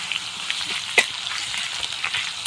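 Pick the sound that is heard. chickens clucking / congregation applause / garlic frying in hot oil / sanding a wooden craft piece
garlic frying in hot oil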